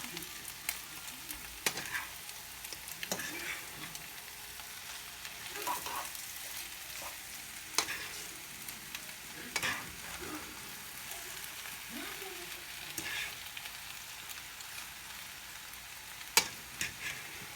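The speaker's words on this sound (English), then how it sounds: "let my eggs cook for a minute, you are going to stir it, okay? Lightly." Eggs frying and being lightly stirred in a pan for breakfast potatoes, a soft steady sizzle with scattered scraping stir sounds at close range and no talk.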